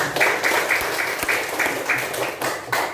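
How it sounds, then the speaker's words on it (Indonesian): Classroom of pupils clapping their hands together in a loud, rhythmic, fairly regular beat, close and continuous throughout. "silakan tepuk tangan"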